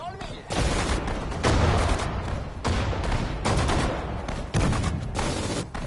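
Gunfire from the World War II strategy game Sudden Strike 4: dense bursts of shots and booming blasts come in repeated loud waves, overlapping one another, while game voice lines speak over the action.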